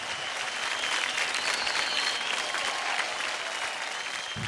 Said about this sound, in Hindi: जोरदार ताली हो जाए हार्दिक और मंजू के लिए।